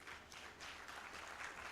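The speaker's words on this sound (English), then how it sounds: "Sengendo, are you hearing that clap?" An audience at an outdoor open day for loan beneficiaries claps and applauds steadily, a dense and faint wash of many hands with no talk over it.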